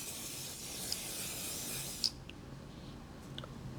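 Makeup setting spray hisses from a bottle in one steady burst lasting about two seconds, close and fairly soft, followed by quiet rustling.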